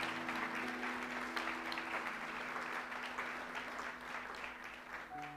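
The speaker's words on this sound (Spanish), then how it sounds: "¿Alguien le puede levantar un aplauso al Señor el día de hoy?" A church congregation claps steadily for several seconds, a dense, even patter of many hands at moderate volume that tapers slightly toward the end, with a faint sustained musical tone beneath it.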